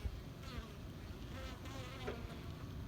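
Honeybees flying out of a hive on a sunny winter day, a continuous close buzzing drone of many wings that stays at a steady, fairly quiet level with no voices.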